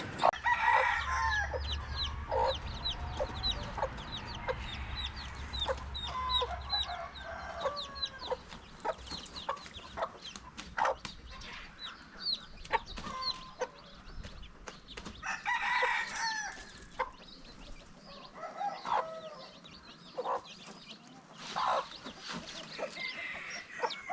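A hen clucks repeatedly alongside the high, thin peeping of her chicks, close by, in bursts with short pauses, while faint background noise runs underneath.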